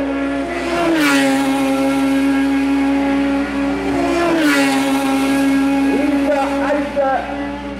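A Radical SR3 race car engine drones loudly on a circuit during a race in Trinidad, its pitch sweeping up and down through gear changes, with a commentator talking over it.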